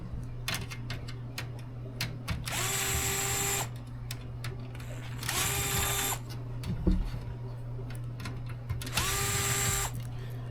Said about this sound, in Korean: 이렇게 처음에 나사를 잘 선택해서 해야 되는데 잘못하면은 이렇게 계속 헛돌게 돼 있어요